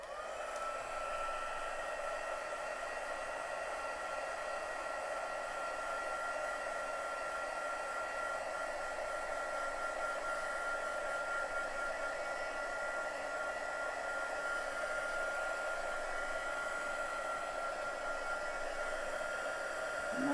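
A hair dryer blows steadily over chalkboard paint, a constant, fairly close whooshing whir with an even tone that holds unbroken for the full twenty seconds.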